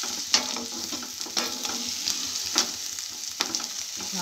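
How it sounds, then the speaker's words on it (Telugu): Moringa (drumstick) leaves fry in a pan, a steady sizzle broken by sharp scrapes of a spatula stirring at roughly one-second intervals, close and clear with no talking. "బాగా వేగిన తర్వాత ఆకు వేసుకోవాలండి."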